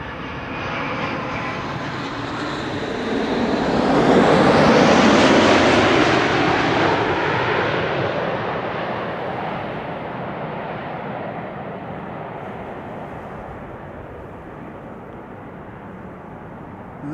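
An IndiGo airliner operated by Norse, arriving from Mumbai, passes overhead at Amsterdam Schiphol: a broad jet engine roar swells to a loud peak, then slowly fades into a distant rumble.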